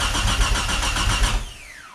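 VR4 build with a 500 hp engine cranks over on the starter in a fast, even pulsing churn, loud and close, then winds down and stops without firing.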